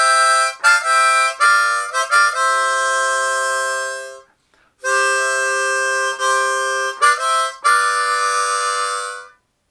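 Harmonica plays the opening melody of a song, loud and close, in sustained reedy notes with short breaks and a brief pause midway, with no voice over it.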